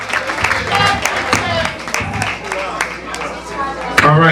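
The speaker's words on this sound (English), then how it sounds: "Give her a round of applause." Audience at a 1999 anniversary ball clapping and cheering in a crowded room, a steady mix of claps and whoops under loud overlapping talk and voices.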